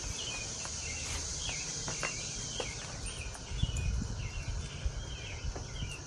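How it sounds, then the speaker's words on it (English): Insects chirp and buzz outdoors, taken here to be cicadas, a faint repeating high call pattern over a soft steady hiss, with light footsteps and rustling as someone walks. "Trying to be quiet so I can hear these cicadas."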